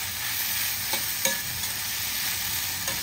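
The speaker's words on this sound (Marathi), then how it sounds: "आता आपला हलकासा फ्राय करून घ्यायचा आहे टोमॅटो पण," Tomatoes fry lightly in a pan for prawn masala, giving a steady close sizzle with a few sharp stirring taps and scrapes against the pan, no voices.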